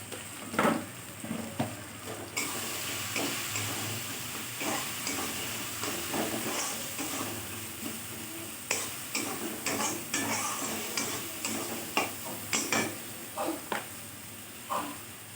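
Kashmiri chili powder going into katla fish-head mung dal frying in a pan: soft sizzling with a spoon stirring and tapping in irregular bursts, fairly quiet and close, no talking.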